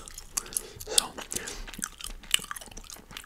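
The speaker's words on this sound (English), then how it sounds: "So this gum I'm chewing here" Vive spearmint gum is chewed right at the mic, with wet, sticky smacks and clicks in an irregular rhythm, close and intimate, alongside faint soft mouth sounds.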